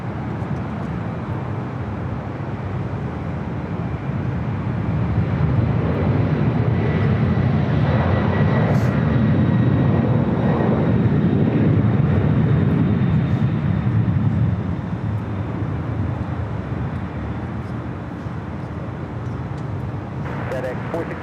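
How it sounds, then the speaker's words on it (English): A UPS Boeing 767-300ER freighter takes off, its jet engines a broad roar that builds and holds before slowly fading, heard at a distance under a voice talking. "Taking off right now was UPS 5903, 767 300 ER, ER freighter, off to Louisville."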